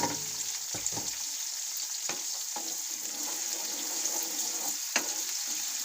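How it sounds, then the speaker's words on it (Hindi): Finely chopped garlic and ginger fry alongside browning onions in a hot pan, a constant close sizzle broken by a few sharp stirring clanks and scrapes. "अब इसमें मैं बारीक कटे हुए लहसुन और अदरक डाल दूंगी।"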